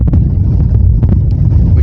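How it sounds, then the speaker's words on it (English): Strong wind buffets the camera on an exposed fell walk in the Lake District, a loud continuous low rumble with gusty bursts throughout and no talking. "camera's getting blown about all over the place with this wind"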